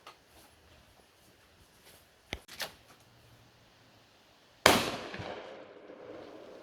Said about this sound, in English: I'm going to throw this up in the air and see if I can't shoot it.